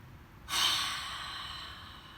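A deep cleansing breath released in a single long, soft exhale that starts suddenly, peaks, and trails off slowly, close and quiet, with no talking.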